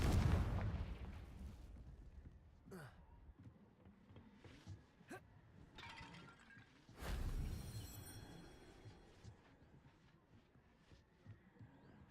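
In a video game, a Confringo blasting spell produces a deep, booming explosion that opens the moment, followed by quieter crackling effects and a second, softer blast about halfway through.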